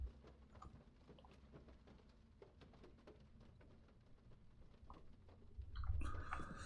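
Faint, steady rain pattering as ambience in the stealth game Thief: The Black Parade, soft and continuous, swelling into a louder rumbling rush near the end.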